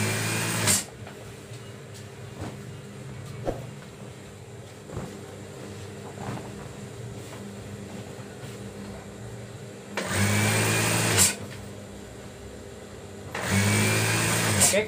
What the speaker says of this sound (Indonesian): Dan kita ini menjahit dari pinggiran sebelah kanan.